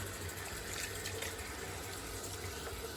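Fish for salted dried taranka rinsed under a running tap, a steady, loud gush of water that continues without break and with no talk.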